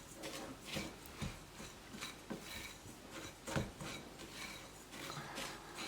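Shredded coconut is mixed by hand into sesame seed flour with soft, rhythmic rubbing and rasping strokes, quiet and close, repeating steadily throughout.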